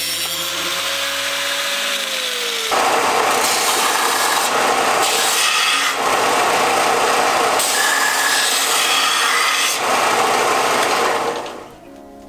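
A belt sander grinds against the metal edge of a car shifter to round it off, a loud continuous abrasive whir in several long passes, rising at each contact and then winding down at the end.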